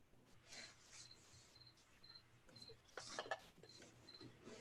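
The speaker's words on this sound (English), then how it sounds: "Someone's got real crickets going." Crickets chirp in repeated short high pulses through a quiet background, steady and moderately faint, with a brief rustle partway through.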